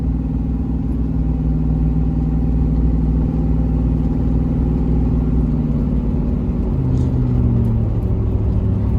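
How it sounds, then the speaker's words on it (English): The Battlewagon's engine, fitted with a new Max Effort transmission, hums steadily and loudly up close, a continuous low drone whose pitch shifts slightly near the end. "Oh, a nice hum of the engine."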